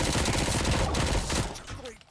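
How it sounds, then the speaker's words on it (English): In the RoboCop Rogue City video game, enemy robots fire their guns in a dense, continuous volley that stays loud and rapid before tapering off near the end. "Too bad they're shooting at me."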